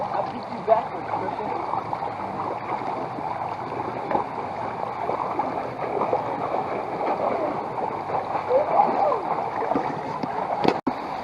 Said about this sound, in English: Uh-oh, Christian, the waterfall's coming, and that water is cold.